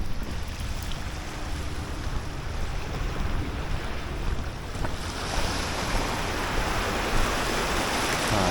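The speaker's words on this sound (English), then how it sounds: "You gotta time this wave now." Ocean waves wash onto the shore in a continuous loud roar, swelling and churning steadily, with wind buffeting the microphone throughout and no voices.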